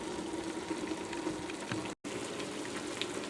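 Mushrooms cook down in a pot, giving a steady, soft sizzling and bubbling hiss at moderate level, broken by one brief dropout near the middle, with no talking.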